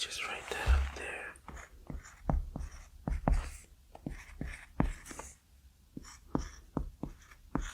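Marker writing on a whiteboard during a whispered math lesson, with squeaky strokes and taps coming in quick bursts beneath soft whispering.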